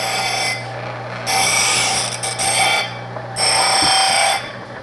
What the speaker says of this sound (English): This is like a 1 horsepower disc sander I got.